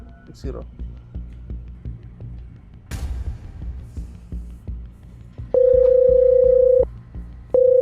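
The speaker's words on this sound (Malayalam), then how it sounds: "ഫോൺ കട്ടായി" A loud, steady electronic telephone tone sounds after a dropped mobile call, a long unbroken beep followed by a brief pause and another beep, preceded by faint rhythmic clicking and a muffled bump.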